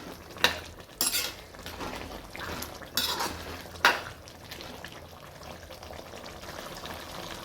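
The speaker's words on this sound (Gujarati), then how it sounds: "હવે આપણે આ બધું મિક્સ કરી લઈએ સરખું" A spoon stirs a pot of undhiyu, a Gujarati mixed-vegetable dish, giving several distinct metallic clanks and scrapes against the pot. A quieter soft sizzle continues between strokes.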